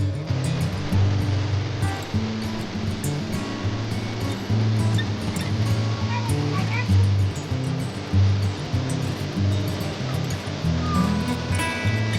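Water flows steadily at Tham Phra waterfall in Bueng Kan, a dense continuous rush with no pauses, heard close and loud throughout.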